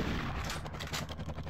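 Pistol gunfire in the Zombat arcade game inside Arcade Paradise, a rapid run of loud, close shots one after another with no speech.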